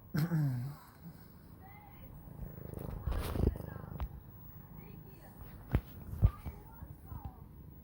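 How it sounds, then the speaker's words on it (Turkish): A cat purrs softly up close, with rustling, light thumps and scattered handling noises around it. "Güzel bir kedi arkadaşlar."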